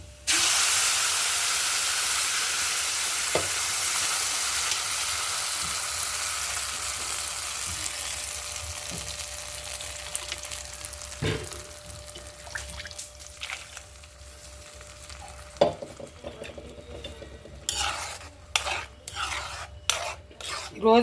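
Chutney poured into hot oil with curry leaves and tempering seeds hisses loudly at first, the sizzle gradually fading, followed later by sharp scraping and knocking of stirring in the pan.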